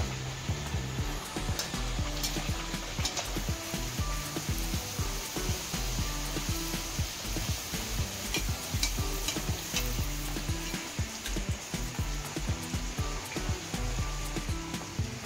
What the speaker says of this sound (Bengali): এবার কচুরিগুলো আমি ভেজে নেব